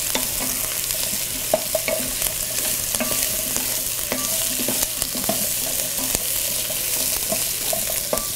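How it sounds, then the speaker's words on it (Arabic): Turnips sauté in oil in a pot with a constant close sizzle, punctuated by repeated knocks and scrapes of a utensil stirring them. "And we will saute until nicely coated with the oil."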